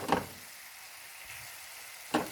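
Whole cumin, dried fenugreek, black pepper and other spices fry in a pan with a soft, faint sizzle and two short bursts of stirring, one at the start and one at the end.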